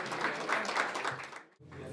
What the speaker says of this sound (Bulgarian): Моля за аплодисменти за Крум Стоилов.